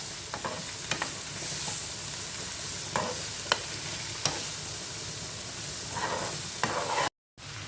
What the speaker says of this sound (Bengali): এই সমস্ত উপকরণগুলো দিয়ে একটুখানি ভেজে নেবো আর দিয়ে দেবো একটুখানি রসুন বাটা